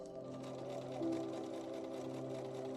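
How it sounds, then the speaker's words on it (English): A sewing machine runs steadily in a back-room workshop, its needle bobbing and spool spinning in a continuous mechanical hum with rapid rhythmic clatter, quiet and unbroken. "Sat behind a spinning spool of thread and a bobbing needle"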